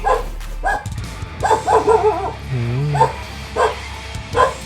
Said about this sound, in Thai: หมาเห่าอะไรวะทุกคน